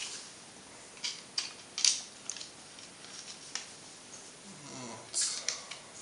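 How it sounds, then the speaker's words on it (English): A wrench tightening bolts on a Spyder Hammer7 paintball marker, a few faint short ratcheting clicks and scrapes close by, with a brief voice near the end. "It's faster with the wrench."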